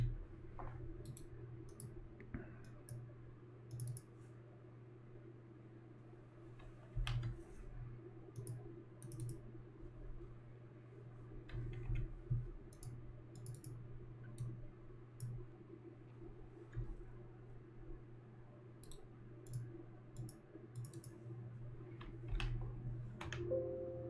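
Quiet, crisp clicks of a computer mouse come in small irregular bursts over a low steady hum while auxiliary views are drawn in drafting software.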